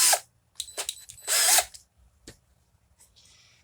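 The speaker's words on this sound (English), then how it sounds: "put it in the old drill" Power drill briefly spinning a Q-tip to clean out a carburetor hole on a Yard Bug 9hp MTD mower; short high whirring bursts with pauses, close and fairly loud.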